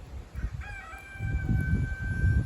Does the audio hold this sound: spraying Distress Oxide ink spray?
no